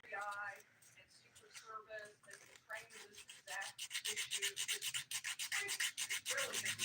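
A nail file rubbing across fingernails during a home manicure, rhythmic close scraping strokes that start after a few seconds of talk and then run steadily.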